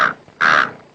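Two loud, rasping crow caws in a film scene at a roadside hotel biryani meal, the first short and the second longer after a brief gap, heard alone without speech.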